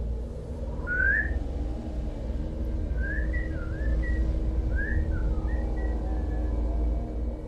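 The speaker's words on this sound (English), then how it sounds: "I started to hear whistles" Thin wavering whistles drift in at intervals over a low constant rumble, a few rising and falling phrases that sound distant and eerie, with no voices.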